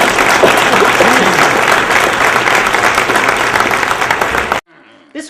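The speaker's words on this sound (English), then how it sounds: "let's hear a big round of applause for Magoo" A crowd gives a big round of applause at a horror host Hall of Fame induction, loud sustained clapping that cuts off abruptly near the end, leaving near silence.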